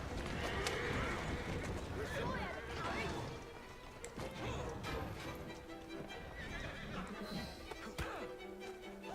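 Horse hooves clip-clop steadily through Assassin's Creed Syndicate, broken by loud neighs and whinnies, with voices and other street sounds mixed in around them.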